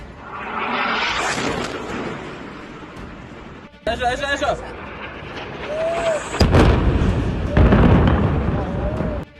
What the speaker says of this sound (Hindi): लेबनान में इजराइल के इन धमाकों को देखकर